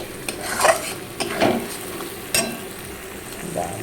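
A pan of fried fish for a Bengali-style curry sizzles as water is poured in, giving a few brief bursts of hiss mixed with soft utensil clinks and stirring, close by.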